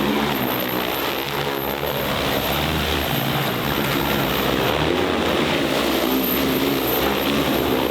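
Propellers of an agricultural spraying drone in flight, a loud, continuous buzzing whir with a steady high-pitched tone on top that holds evenly for the whole stretch, close and unbroken.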